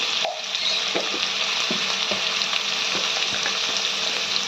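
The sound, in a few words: frying and stirring pui shaak vegetables with turmeric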